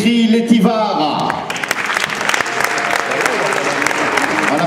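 Audience applause at a chess tournament prize-giving ceremony in Corsica, a loud sustained crackle of clapping that breaks out after a voice speaks and continues steadily to the end.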